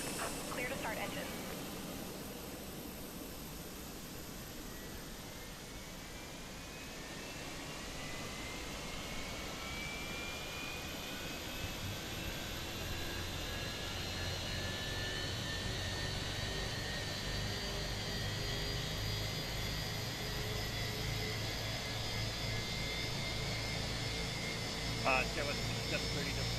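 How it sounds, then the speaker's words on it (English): Airbus jet engines in a Microsoft Flight Simulator game spool up from a steady background roar into a rising whine that climbs over many seconds, with a voice talking over it. "Engine mode ignition start."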